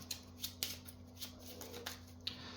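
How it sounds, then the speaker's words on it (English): Soft, rapid flicks of board game cards being shuffled up close, a quick series of light crisp snaps over a faint steady hum. "And I like to just shuffle these up again."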